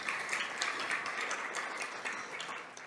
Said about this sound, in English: Another big round of applause for Jason, please